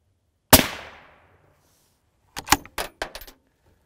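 A rifle shot rings out against a Level III silicon carbide armor plate as one loud sharp crack with a long decaying echo, followed by a quick cluster of metallic clinks and rattles.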